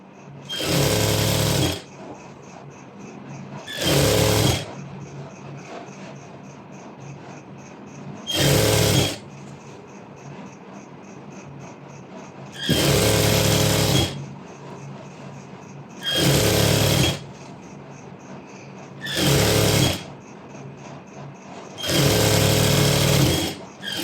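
A sewing machine stitches circular maxi skirt pieces together in seven loud, steady runs of a few seconds each, separated by short quiet pauses.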